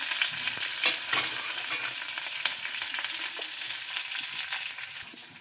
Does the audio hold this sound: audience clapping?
no